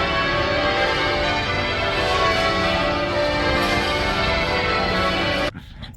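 Bells ring out in celebration, a dense, sustained peal of overlapping metallic tones that holds steady at full volume and then cuts off abruptly.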